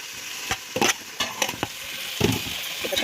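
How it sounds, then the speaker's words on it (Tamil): Onions frying and being stirred in a pan, a steady sizzle broken by several sharp scraping strokes of a spoon, close and clear with no talking. "வெங்காயத்தை போட்டு நல்லா வதக்கணும். பொன்னிறமாக வர வரைக்கும் வதக்கணும்"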